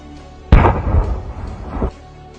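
A TNT explosive device detonates in one sudden loud blast, followed by a rumbling, roaring decay of a little over a second before it cuts back to quieter background.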